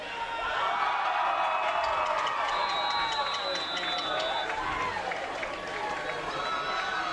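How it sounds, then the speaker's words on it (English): A college football crowd at the Battle of the Basin roars and cheers steadily throughout, with an announcer's voice carrying over the dense, continuous noise. "Crowd's getting into it now."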